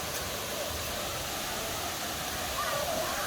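The Pé da Serra waterfall near Barra do Garças, Mato Grosso, Brazil, roars in a dense, unbroken rush of falling water, steady and fairly loud throughout.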